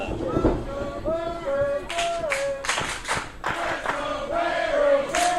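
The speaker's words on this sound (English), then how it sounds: "The Let's Go Gary chant raising up" A wrestling crowd chants "Let's Go Gary" in rhythmic bursts of voices and claps at a live match, repeated unison shouts with clapping under them and a commentator's voice mixed in.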